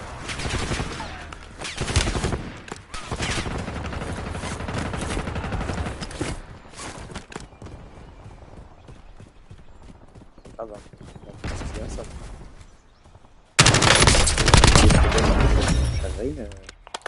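Bursts of gunfire in the battle royale game Warzone, heavy volleys early, a quieter stretch with scattered shots and voices, then a sudden loud burst of rapid fire near the end.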